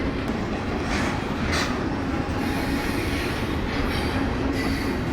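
A long freight train pulled by three locomotives rolls by at about 25 mph, with a steady close rumble of railcars, rhythmic wheel clatter and occasional squeals.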